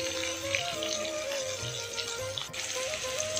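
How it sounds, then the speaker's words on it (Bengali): Bitter gourd slices fry in a pan with a soft, continuous sizzle and crackle, a faint steady tone running underneath. "লাল লাল করে ভাজতে হবে।"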